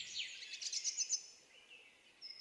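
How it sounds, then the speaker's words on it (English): Birdsong in a summer forest setting: a quick burst of high, bright chirps and trills in the first second, fading out, then a thin whistle near the end, fairly faint with no talking. "beautiful birds."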